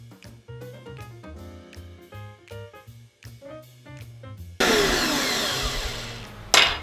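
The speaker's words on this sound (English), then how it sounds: "we need to make the powder in a blender" A kitchen blender grinds ingredients into powder for Ukrainian halva, starting abruptly after a stretch of music and roaring loudly for about two seconds before a final burst.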